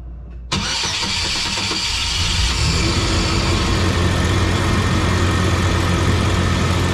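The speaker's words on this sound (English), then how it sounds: "No leak, so we'll try to start the truck." A Chevy S10 pickup's engine cranks and catches after a short silence, then settles into a steady, loud idle that runs on close by with no talking.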